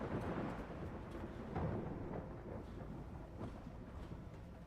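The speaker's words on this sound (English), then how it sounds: "Sounds like a storm brewing." Thunder rolls in low, rumbling waves within a stormy scene in the video game The Last Caretaker, with a heavier swell early on before easing to a steady distant grumble.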